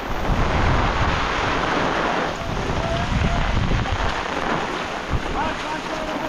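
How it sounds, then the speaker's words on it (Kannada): Nonstop monsoon rain pours over Sandhan valley in Maharashtra, a dense, loud, steady hiss of downpour with gusts of wind buffeting the microphone throughout. "ನಾನ್ ಸ್ಟಾಪ್ ಮಳೆ, ಎಲ್ಲೋದ್ರೂ ಮಳೆ, ಇಳಿದ್ರೂ ಮಳೆ, ಹತ್ತಿದ್ರೂ ಮಳೆ"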